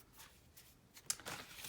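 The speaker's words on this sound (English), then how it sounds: "I will do a little shuffle with the astrology cards" Astrology oracle cards from an Antiquities of Magick deck are shuffled in the hands, giving soft papery riffles with a sharper snap near the end, close and quiet with no talking.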